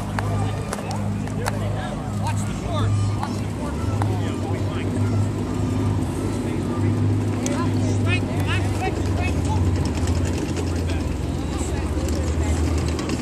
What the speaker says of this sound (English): out there they're doing the run-up on the engines on the new engines on the only flyable B-29